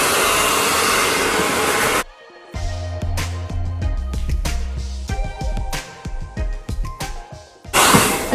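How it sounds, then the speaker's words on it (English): A hair dryer roars steadily at close range while blow-drying the root area of styled hair, cutting off abruptly after two seconds and returning loudly at the end, with quiet background music and soft handling sounds in the gap. "we're actually concentrating on blow drying that root area"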